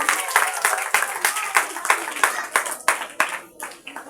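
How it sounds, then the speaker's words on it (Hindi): An audience at a children's Independence Day program claps for a child, loud and close, with a rhythmic, somewhat unison beat that fades toward the end. "तालियां बच्चे के लिए।"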